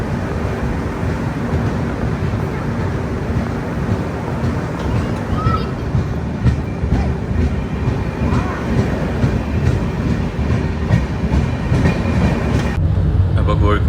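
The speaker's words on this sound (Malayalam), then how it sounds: "അപ്പോൾ കോഴിക്കോട് സ്റ്റേഷൻ എത്തിക്കൊണ്ടിരിക്കുന്നു" A Rajdhani Express train with first-class AC coaches runs toward Kozhikode station, heard from inside as a loud, continuous rolling rumble with faint rhythmic clacks, steady throughout, with a brief change near the end.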